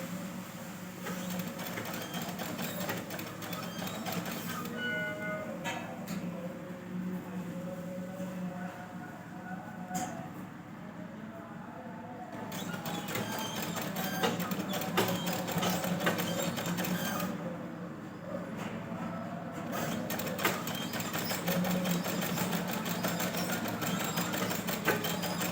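A sewing machine stitches a blouse in long continuous runs, its fast mechanical whir broken by short pauses between passes, heard close and with no talking.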